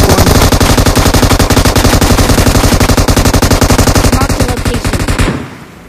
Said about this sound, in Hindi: हाथ में मशीन गन है, 150 की 150 तेरी छाती में भर देंगे।